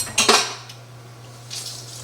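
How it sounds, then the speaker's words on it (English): Dishes being cleared in a home kitchen: a few quick clinks of plates and cutlery near the start, then a softer clatter, over a steady low hum. "Let me get these dishes out of the way."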